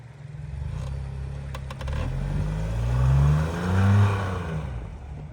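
A Nissan Rogue AWD accelerates hard in snow with wheel slip, its engine rising and falling in pitch as revs climb, loud and close with a steady whirring drone.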